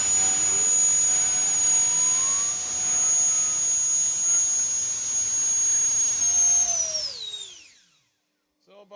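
A Freewing 80mm 1920kv nine-blade inrunner electric ducted fan on 8S power screams at max thrust with a steady, loud high-pitched whine, then spools down in a falling sweep to near silence at the end.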